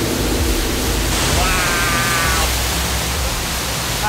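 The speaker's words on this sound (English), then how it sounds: "I didn't expect the waterfall to be that big." Water pours steadily from a large waterfall inside an old Victorian sewer cave, a broad constant roar filling the space, with voices briefly audible over it.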